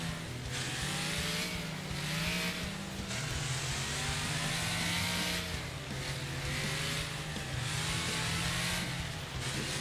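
A race car engine in the Wreckfest video game revs and accelerates, rising and falling in pitch with repeated surges between throttle lifts, loud and continuous with no talking.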